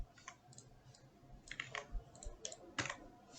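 Keystrokes on a computer keyboard entering an IP address during a server panel setup, a quick irregular run of close, light clicks that speeds up in short bursts.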